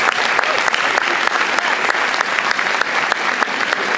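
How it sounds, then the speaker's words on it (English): An audience at a school winter band concert applauds loudly and close, a dense wash of clapping with a few sharper individual claps standing out, continuous from start to finish. "So give them a round of applause for just who they are."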